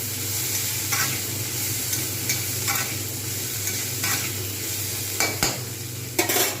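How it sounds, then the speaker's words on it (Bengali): Winter vegetables for restaurant-style veg fried rice stir-fry in a pan, a continuous sizzle with a low steady hum beneath and occasional sharp clanks and scrapes of the spatula, close and without speech. "দেখা যাচ্ছে সুন্দরভাবে ভাজা হয়ে গেছে।"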